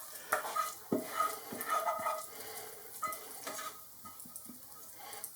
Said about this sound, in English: And mix these into the mixture.